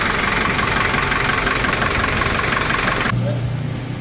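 Daihatsu Taft GT 4x4 (F70) engine idling after an oil change, a steady loud low rumble with broad hiss that drops away near the end, leaving a quieter low hum.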